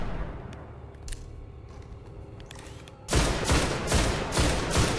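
Scout rifle fire in the video game Destiny, during a solo heroic strike against Valus Ta'aurc: after quiet ambient game noise, a rapid burst of loud, closely spaced shots begins about two-thirds of the way through.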